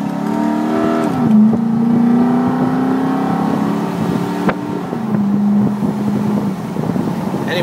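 A 2006 Nissan Titan crew cab 4x4 pickup engine runs steadily at close range, a loud, even drone with slight shifts in pitch and no talking.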